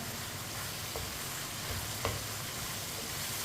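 Whole spices such as cumin and coriander seed cooking in a pan with meat and a splash of white vinegar for a gosht curry, giving a steady, even sizzle with a couple of soft knocks, close and quiet, no talking.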